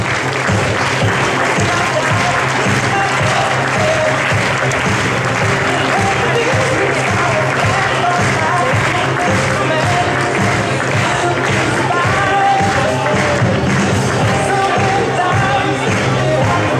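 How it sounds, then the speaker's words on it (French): Dense, steady applause from a large crowd at the opening ceremony of a youth football tournament as the Le Mans FC team is presented, loud and continuous throughout with murmuring voices mixed in. "Merci d'applaudir Le Mans FC"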